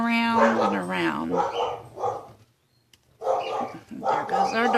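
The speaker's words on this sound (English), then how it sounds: "There goes our dog." A dog barks and yips in a run of loud, close barks, breaking off into a brief silence before another burst of barking.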